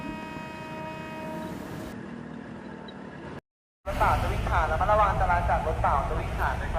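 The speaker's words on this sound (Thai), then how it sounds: "ขบวนเจ็ดกำลังจะออกแล้วก็ขบวนรถเปล่าก็กำลังจะเข้ามา" Trains rumble at Bang Sue railway station, with tonal whining and hum at first, a brief gap, then louder clattering machinery and a horn-like drone as one train departs and an empty train arrives.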